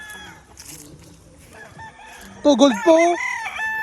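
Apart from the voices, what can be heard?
rooster crowing, gamecock for cockfighting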